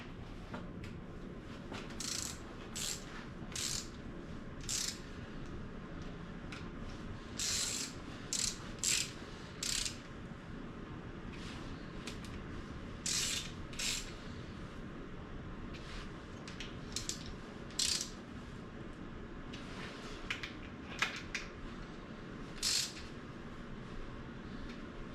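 A ratchet snugging up intake manifold bolts on an EcoBoost engine, close and fairly quiet, in short clicking bursts separated by pauses, with no talk.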